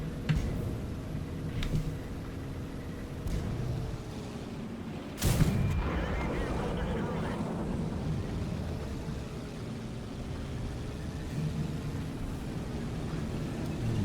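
In a World of Tanks battle, one loud close tank cannon blast booms out among several fainter, more distant shots, over a low continuous engine and battlefield rumble.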